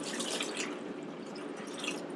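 Dechlorinated water is poured from a carboy into an axolotl container, making a steady splashing, trickling rush that continues without a break at close range.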